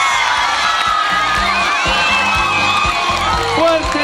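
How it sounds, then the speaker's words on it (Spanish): Carnival crowd cheering and applauding for the newly crowned Elqui carnival queen, a loud continuous roar of shouts and whoops with music and an announcer's voice running underneath. "¡Fuerte el aplauso para nuestra soberana"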